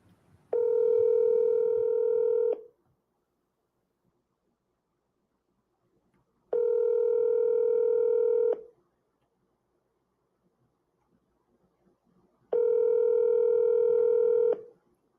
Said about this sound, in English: I'm going to give him a second call here.